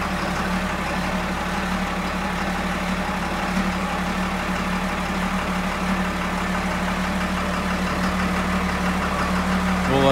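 A Caterpillar 928G wheel loader's engine idles steadily after a cold start on a cold day, a loud, continuous diesel rumble with a low throb that holds even for the whole stretch, with no voices.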